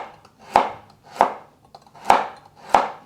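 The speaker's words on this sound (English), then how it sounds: "And one large carrot I'm going to julienne." A knife julienning a large carrot into matchsticks: four crisp, close chops land on a cutting board at an uneven rhythm, with quiet gaps between them.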